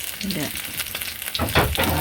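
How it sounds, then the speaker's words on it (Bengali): Tilapia fish fries in hot oil in a pan on a village stove, giving a close, steady sizzle with a few louder crackling bursts. "এই যে চুলাই দিছি তেলাপা মাছ"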